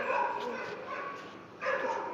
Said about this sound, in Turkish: Bugün size bir köpek göstereceğim.